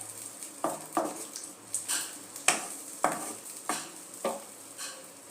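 A spoon scrapes and knocks in a steady rhythm while spice masala and yogurt are sautéed together in a pan for dahi begun, about a stroke every second, fairly soft, over a faint sizzle.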